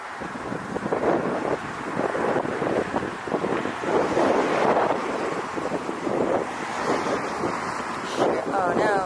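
Gusty wind buffeting a microphone outdoors, with a steady rushing roar and the wash of water in the background.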